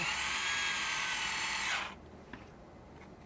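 A power drill bores through an FRP plate for a Mini4WD rear stay, a loud, steady high whine for nearly two seconds that cuts off abruptly, leaving quiet room noise and a small click.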